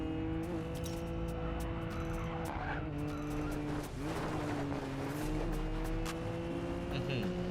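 A Nissan Skyline GT-R R32 races in Racing Master, its engine holding a steady high drone while tires squeal and skid through corners, punctuated by sharp clicks, with a voice faintly under the car noise.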